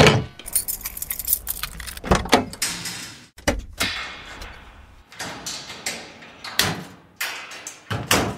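Keys jangle repeatedly while someone walks down a corridor toward a door, in loud, close bursts of metallic rattling broken by short pauses and a few thuds, with no talk over it.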